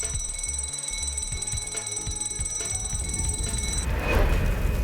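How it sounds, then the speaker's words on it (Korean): A fire alarm emergency bell rings continuously with a bright, sustained metallic tone and a mechanical rattle beneath it, growing noisier toward the end. "화재경보 비상벨을 누릅니다."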